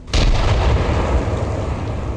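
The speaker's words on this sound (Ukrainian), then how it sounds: "давайте послухаємо, як звучить граната" A single loud grenade blast in the video game Arma Reforger goes off abruptly, then rumbles and rolls on with heavy low booming that slowly fades.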